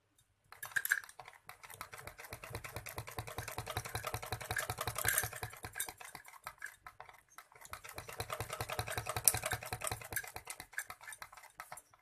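Sewing machine stitching fabric for a baby girl's frock, a rapid steady mechanical chatter in two long runs separated by a short pause, close and fairly quiet, with no talking.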